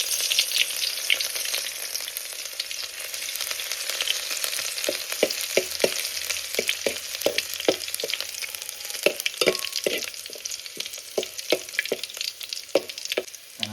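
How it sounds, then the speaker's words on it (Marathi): Ginger and garlic sizzle steadily in hot oil in a pot, a tempering for a Bangada fish curry, with a constant close frying hiss broken by soft scraping stirs throughout. "आता आलं लसूण लसूण एकदम टाकायचं नाही."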